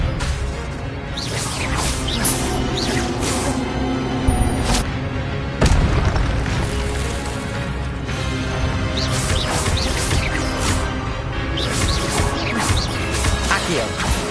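Expelliarmus spell casts in Hogwarts Legacy on PS5 amid a busy duel, dense repeated magical bursts, whooshes and impact booms over a steady loud bed of combat noise, with occasional voice.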